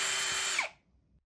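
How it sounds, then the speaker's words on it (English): Close high-pitched whine of a power drill with a 1/8 inch bit boring through a Tamer fork guard on a Yamaha YZ250F, running steadily before spinning down and stopping, leaving near silence. "You're going to want to take your 1/8" drill bit, and you're going to just drill directly through the hole."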